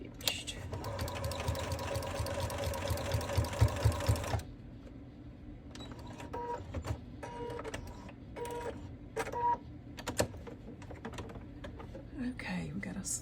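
A sewing machine stitches a coat in a rapid, even run of needle strokes for about four seconds, followed by scattered clicks and handling noise while someone talks quietly.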